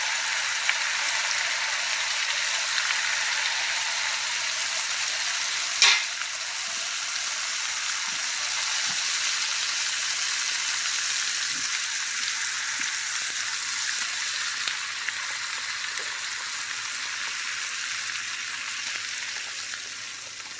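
Homemade fried apple pies sizzle in melted hot fat, three at a time, a steady close hiss of frying with occasional small pops and one sharp clink, no talking.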